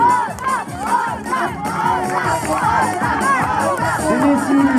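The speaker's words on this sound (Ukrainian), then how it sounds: "Болівальники оплесками підтримуйте своїх учасників, підтримуйте оплесками." Crowd of spectators at a children's relay race shouting and cheering continuously, a dense mix of excited young voices close by and lively throughout.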